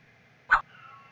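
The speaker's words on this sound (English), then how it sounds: "That's my cat crying" A pet cat gives one short, sharp cry close by, a brief burst over quiet background hum, with a faint steady tone continuing afterward.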